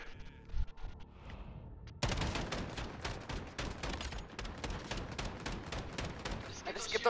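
Rapid bursts of automatic gunfire in a Call of Duty: Modern Warfare 2v2 match, loud and continuous after a quieter opening, with shots crackling close by and a player's voice in the background.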